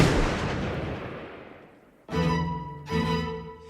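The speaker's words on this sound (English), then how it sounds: "the painting's loudest, most dominant sound is a gunshot. A musket shot." A single booming musket shot with a long decaying roar, followed about two seconds later by two sharp, ringing metallic impacts with sustained resonant tails, loud and without voices.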